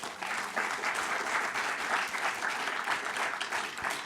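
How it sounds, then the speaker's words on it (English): Audience at an art panel discussion applauding artists in residence, steady dense clapping throughout at even volume. "So I want to give a round of applause to them."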